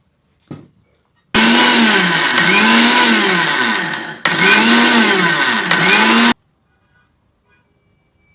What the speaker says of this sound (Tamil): பாருங்கள் எள்ளு அடித்து எடுத்தாச்சு